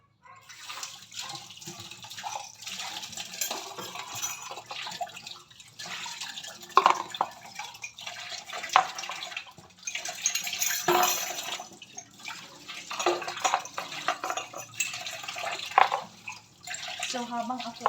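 Running water from a tap splashes and drips while dishes clink and clatter intermittently, with occasional talk nearby.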